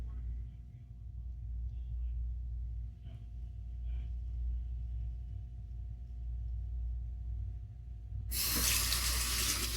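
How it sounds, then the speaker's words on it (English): A tap suddenly gushes loudly near the end, rinsing off during a straight-razor shave, after a long stretch of quiet, low room hum. "All right, let me rinse off."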